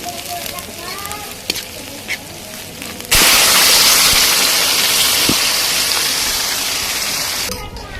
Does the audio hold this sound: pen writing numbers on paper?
no